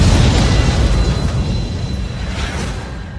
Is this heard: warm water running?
no